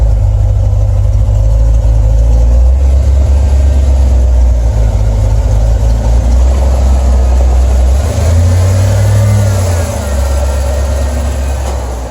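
A loud, low engine rumbles steadily at idle, with a slight fluctuation partway through and no voices.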